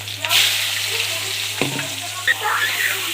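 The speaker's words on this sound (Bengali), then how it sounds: "ভালো করে লাল করে ভাজতে হবে কচুগুলোকে" Pieces of taro frying in oil with black cumin seeds, giving a continuous close sizzle broken by a few clinks and scrapes of a stirring utensil.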